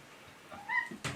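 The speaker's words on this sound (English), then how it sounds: "Meow!" A wet cat named in a bath gives a single faint, drawn-out meow, rising then falling, followed by a short thump nearby.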